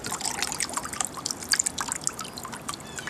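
Water drips and trickles out of soaked bonsai soil after the pot is lifted from a bath, a busy stream of close, fine patters and droplets with no voices.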